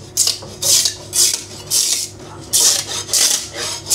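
A scraper rasps against a 3D printer bed, prying off a black PLA print in a series of about six loud, rhythmic scraping strokes, close up with no talk.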